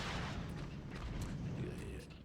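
Rhino weapon explosions in the Ratchet & Clank video game, a dense rumbling barrage of blasts that keeps going without a break, with a voice talking underneath.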